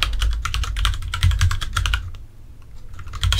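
Quick, steady typing on a computer keyboard, with a dense run of close keystrokes that briefly pauses and then resumes.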